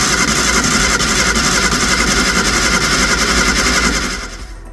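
A Reliant Supervan engine with a suspected carburettor fault runs steadily at close range, a loud, continuous mechanical drone with no talk, cutting off and fading near the end.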